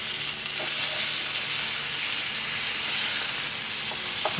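Tilapia fish pieces pan frying, a steady bright sizzle and crackle close by, with a few faint clicks and pops scattered through and no talk.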